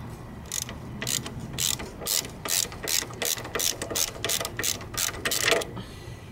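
Ratchet wrench with a half-inch socket working a scooter shock bolt, a rapid series of sharp metallic clicks in repeated bursts, close and clear with no talking.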